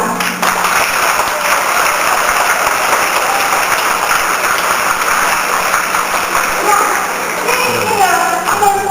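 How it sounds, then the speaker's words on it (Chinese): Students at a Hsing Kuo High School Christmas song event break into loud, sustained applause, a dense and even burst of clapping that fills the room, with a few voices rising near the end. "给他鼓掌"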